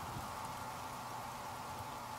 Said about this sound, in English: And it's even raining.